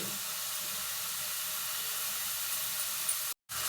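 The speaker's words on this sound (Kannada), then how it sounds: "ಇದು ಸಿಮ್ಮಲ್ಲಿ ಕಂಪ್ಲೀಟಾಗಿ ಫ್ರೈ ಆಗಬೇಕು" Carrot and beetroot fry in oil in an iron kadai on a low flame, giving a steady, even hiss that cuts out briefly near the end before resuming.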